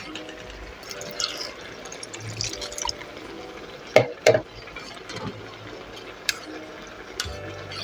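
Water pours and splashes into a pot nearby, with a few sharp clinks and drips along the way.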